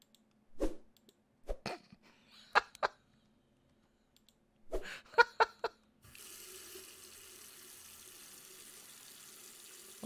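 Water runs steadily from a tap in a horror video game after a series of sharp clicks and knocks, the flow starting partway through and continuing as a constant hiss.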